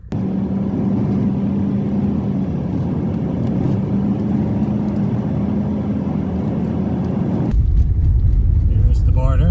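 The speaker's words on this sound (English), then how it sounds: "I'm actually surprised how well the Mercedes handles these rough roads." A Mercedes W123 diesel car rolls over rough winter roads, its engine droning steadily at close range with constant low rumble and road noise, then a louder, rougher surface or change near the end.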